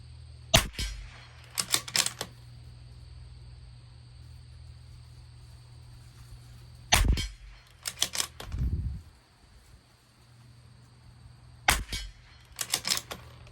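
A Bergara B14R Carbon rimfire rifle firing SK Standard Plus ammunition at 50 yards: sharp, close cracks in small clusters with long quiet gaps between strings, plus faint mechanical clicks from working the bolt.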